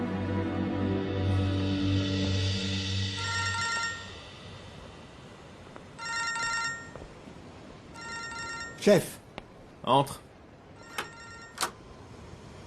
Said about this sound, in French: ton téléphone n'arrête pas de sonner.